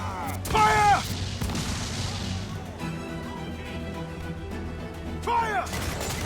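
Ship cannons fire in Assassin's Creed IV: Black Flag, with bursts of booming shots and cracking impacts over a sea-battle din while crew voices shout in the background.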